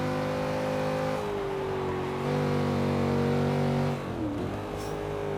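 A Chevrolet Camaro SS engine drones steadily with a strong harmonic tone as the car drives back roads in Forza Horizon 3, the pitch shifting slightly before dipping briefly near the end.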